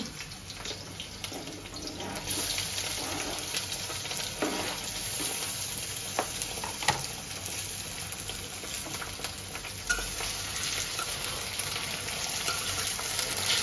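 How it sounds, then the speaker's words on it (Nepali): Potatoes frying in a pan with lightly fried onion, a steady broadband sizzle with occasional stirring scrapes running throughout, fairly close and with no voices. "प्याजलाई चाहिँ हल्का फ्राई गरेर यसमा चाहिँ म हाल्ने वाला छु आलु"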